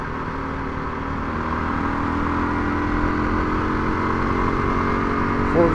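Kawasaki KLR 250 motorcycle being ridden, a steady engine drone with broad wind rush, holding an even level and rising slightly toward the end as it shifts through the gears.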